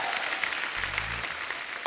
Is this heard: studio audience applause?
yes